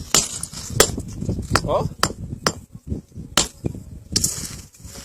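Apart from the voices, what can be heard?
hammer striking stone to shape cobblestones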